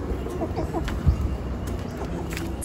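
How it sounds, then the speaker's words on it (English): Chickens clucking softly inside a chicken house, a steady low chatter of several birds with scattered brief calls, fairly close and continuous throughout. "I come down to my chicken house and I hang out with the chickens."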